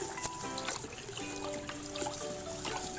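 A homemade dishwashing soap mixture with detergent is stirred, giving a soft, continuous liquid swishing and trickling at low volume over a faint tonal background.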